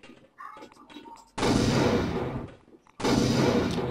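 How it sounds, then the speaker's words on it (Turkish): Explosions from bombs thrown at a house in a video game: two heavy, sustained booming blasts, each starting abruptly and rumbling for over a second, after a short stretch of quieter clicks and game sounds. "Şimdi eve bomba atıyoruz."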